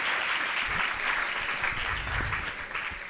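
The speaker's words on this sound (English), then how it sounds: "let's welcome all the participants with a huge round of applause" Audience applause at a school English speech competition, steady dense clapping filling the hall at an even level throughout, without a break.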